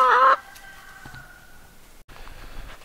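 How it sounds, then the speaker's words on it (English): Hens in a chicken tractor cluck and squawk, with a sharp loud burst at the start followed by quieter scattered clucks and soft rustling nearby. "it looks like 3 happy, healthy hens"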